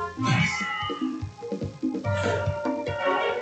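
Several cats meow in the game Trails in the Sky, a quick series of short, bright mews close together, some overlapping, lasting a few seconds with no clear talk over them.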